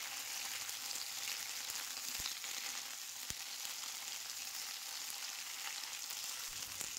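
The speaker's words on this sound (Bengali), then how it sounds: "এখন শিমগুলো তেলের সাথে নাড়াচাড়া করে ভেজে নেব।" Flat beans fry in hot mustard oil in a wok with a steady, close sizzle that runs throughout, broken by a couple of sharp clicks.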